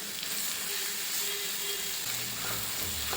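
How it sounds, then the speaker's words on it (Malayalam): Mustard seeds, dried chilies and curry leaves sizzle in hot coconut oil in a pan, a dense, even frying hiss throughout with faint low stirring sounds near the end. "ഇനി ഒരു പാൻ അടുപ്പത്ത് വെച്ച് അതിലേക്ക് വെളിച്ചെണ്ണ ഒഴിച്ചു കൊടുത്ത് കടുകും വറ്റൽമുളകും കറിവേപ്പിലയും ചേർത്ത് താളിക്കാം"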